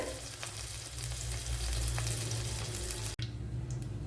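Fenugreek seeds frying in hot oil for a Kerala dry fish curry: a dense, continuous sizzle and crackle close by with a low hum underneath, broken by one brief dropout.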